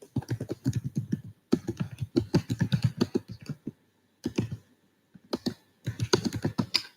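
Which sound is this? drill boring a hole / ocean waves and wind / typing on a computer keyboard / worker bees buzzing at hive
typing on a computer keyboard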